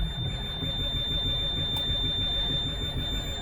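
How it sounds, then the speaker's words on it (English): A steady, high-pitched electronic beep tone sounds continuously over the low rumble of a Mack Vision 460 truck being revived. "that beeping's the most annoying sound I think I've ever heard"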